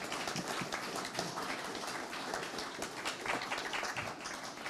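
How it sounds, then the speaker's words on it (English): A live audience at a Native arts speaker series gives Cameron a steady, dense round of applause, many hands clapping together with a bright, rain-like patter that holds evenly throughout without any talk over it. "can we give Cameron a round of applause?"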